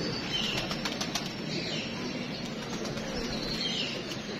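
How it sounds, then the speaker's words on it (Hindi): A pet pigeon takes off, its wings beating in a quick, continuous flutter that stays near and fairly loud for several seconds. "कबूतर उड़ गया है"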